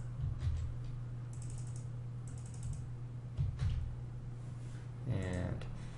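Computer keyboard keys tapped in scattered bursts while a slide presentation is built, light clicks sitting over a steady low hum, with brief quiet gaps between flurries.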